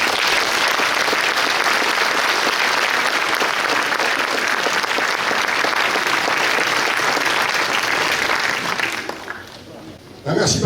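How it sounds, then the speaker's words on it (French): Indoor audience at a mayor's New Year address in a French village giving sustained, dense applause for about nine seconds before it thins out and stops. "Vraiment, ils méritent vos applaudissements."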